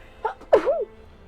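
A single short sneeze, close and clear, with a brief breath before it and quiet room tone around it.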